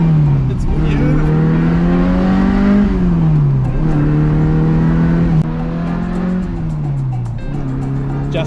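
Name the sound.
car engine revving and accelerating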